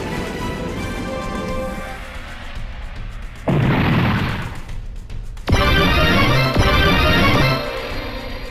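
Explosions in the video game Super Robot Taisen BX: a sudden loud rushing blast cuts in over a rumbling background, then a second, heavier crashing boom follows and roars for a couple of seconds before easing off.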